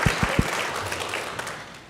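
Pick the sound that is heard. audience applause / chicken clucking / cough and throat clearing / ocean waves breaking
audience applause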